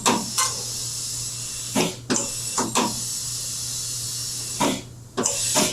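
Air hisses steadily as a tire is inflated on an alloy wheel, a continuous loud hiss broken by several short, sharper bursts, with a low steady hum beneath.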